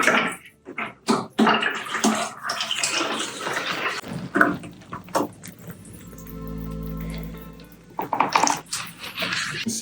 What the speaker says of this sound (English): we're pouring it into a few different pitchers